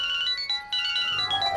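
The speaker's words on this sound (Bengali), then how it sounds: "মার ফোন এসেছে" A mobile phone ringtone plays a bright electronic melody, repeating tones close by, with no voices.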